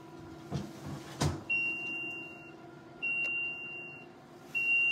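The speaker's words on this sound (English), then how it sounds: "And this is beeping." A dialysis machine gives three short, high electronic beeps spaced about a second and a half apart, with a few soft clicks and a quiet background hum.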